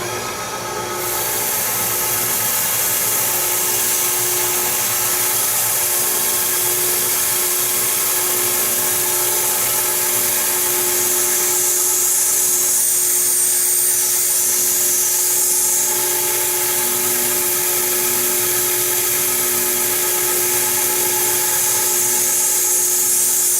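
A KO Lee tool-and-cutter grinder sharpens a metal punch in a shop, giving a loud, steady, high whine with a constant hum beneath it that runs unbroken for the whole stretch.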